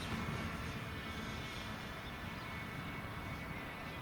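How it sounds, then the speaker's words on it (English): Several engines of a Hobby King Avro Lancaster V3 radio-controlled model bomber hold a steady, droning full-throttle roar, with two of the aircraft flying in close formation and passing fairly near. "Keep your full throttle on for a minute then."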